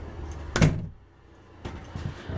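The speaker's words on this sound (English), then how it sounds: "Shut that door." An RV bathroom door swings shut with a single close thunk, loud and near, followed by a quiet pause and then faint indoor movement noise.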